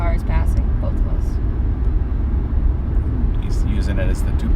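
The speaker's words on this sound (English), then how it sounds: "the guy behind the first red car is passing both of us" A car passes on the Natchez Trace Parkway, heard as a steady road rumble and rushing tire noise from inside a moving vehicle, continuous and fairly loud throughout.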